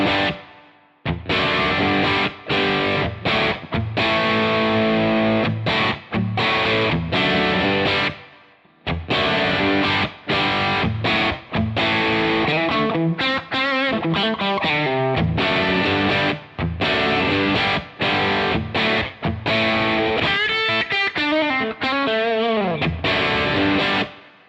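An electric guitar played through a BADCAT Cub V amp at maximum gain gives thick distorted chords and riffs, loud and continuous, with brief gaps between phrases and sustained ringing notes.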